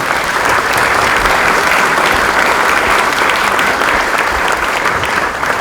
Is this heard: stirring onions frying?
no